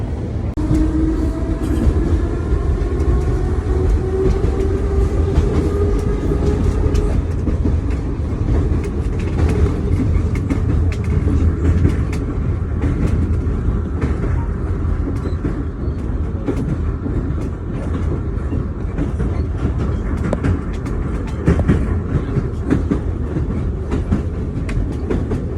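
A light rail train in Kyiv rumbles along the tracks, loud and close from inside, with steady clickety-clack, a rising whine from the motors and continuous rattling for the whole stretch.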